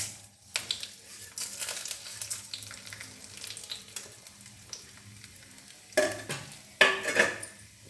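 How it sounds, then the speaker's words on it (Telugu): Urad dal and chana dal go into hot oil in a pan for a tempering, giving a crackling sizzle with spoon and pan clinks and sharper bursts near the end, over faint background music. "ఇప్పుడు నూనె కాగుతుంది కదా మినపప్పు శనగపప్పు వేసేద్దాం"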